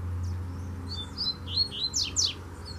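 Double-collared seedeater, or coleiro, singing in a run of bright, quick chirps and short trills, fairly close and clear over a steady low hum.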